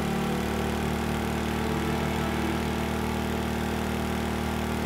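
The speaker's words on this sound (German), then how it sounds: "Mal kurz den Motor, hoppala, den Pumpenmotor anschmeißen." Pump motor in Stormworks running steadily at a constant drone, a continuous mechanical hum with no talk over it.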